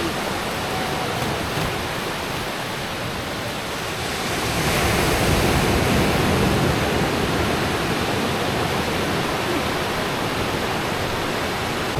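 Ocean waves washing onto the shore in Madeira, a steady broadband roar of surf that swells louder midway through and stays continuous, with no voices.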